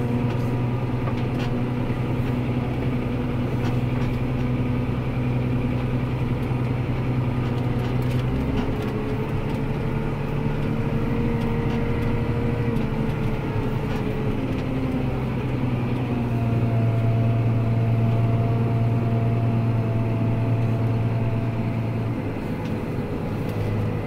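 A John Deere 7200R PowerQuad tractor engine idles close by in a low, steady rumble that holds unchanged for a long stretch, with no talk over it.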